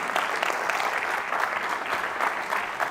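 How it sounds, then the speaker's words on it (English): A memorial gathering audience claps hands together in dense, sustained applause, loud and continuous for the whole stretch. "Clap your hands if you did summer theater."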